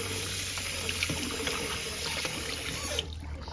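Water runs steadily while henna is rinsed out of hair with no shampoo or conditioner, a soft continuous trickle and splash that cuts off abruptly near the end.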